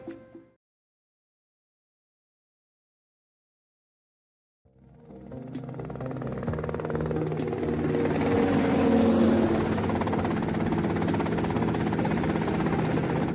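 A helicopter in GTA Vice City starts up after a brief sound and a few seconds of silence, then its engine and rotor build into a steady loud whirring drone with no talk.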